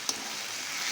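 Potatoes dropped into a hot pan with poppy seed and nut paste, giving a brief clatter followed by a steady sizzle and stirring.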